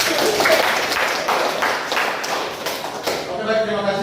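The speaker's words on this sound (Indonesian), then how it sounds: "Kita berikan tepuk tangan untuk kelompok." Classroom of students clapping for a group after its presentation, a steady dense patter that holds throughout, with voices mixed in toward the end.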